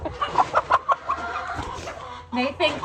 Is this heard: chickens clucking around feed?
yes